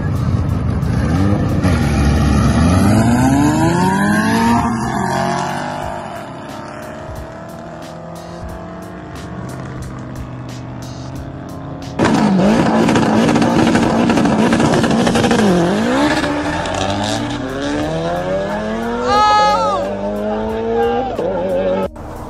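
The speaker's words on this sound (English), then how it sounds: "I'm going to put in some clips of closed course racing in Mexico that Ken has done" A turbocharged B18B1-engined 1992 Honda Civic hatch races on a closed course in Mexico, its engine rising and falling through gear changes with tire squeal and skidding through corners. A voice talks over the loud, continuous engine roar.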